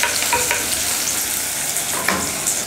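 Onions sautéed in a pressure cooker at the start of a Kerala chicken curry, a loud close sizzle and fry broken by a few scraping stirs of a spoon, no talking.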